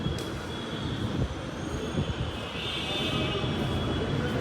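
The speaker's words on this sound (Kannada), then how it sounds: "ಇಲ್ಲೇ ಮೆಟ್ರೋ ಬರೋದು." A metro train rumbles at the KR Puram metro station platform, a low, continuous roar with a rising hiss partway through, fairly faint against the station ambience.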